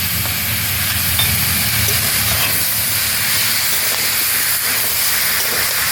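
Chopped onion with ginger, garlic and dried red chili paste sizzles in a frying pan, giving a loud, constant hiss and crackle close up with no talking.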